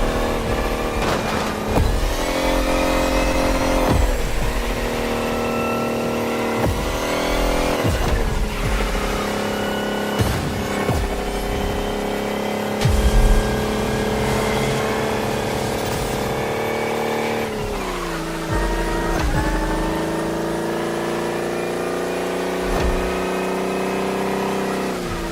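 A 2,000-horsepower electric car in The Crew Motorfest accelerates hard with a loud, rising electric whine, and the pitch swells again in repeated bursts over several passes. No one speaks.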